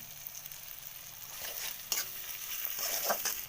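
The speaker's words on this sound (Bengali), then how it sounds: "টমেটো কুচি এবার দিয়ে দেবো নেড়ে নেবো" Chopped tomato is stirred into hot oil in a pan, giving a soft continuous sizzle with scattered scraping clicks from the spatula, close and fairly quiet with no voices.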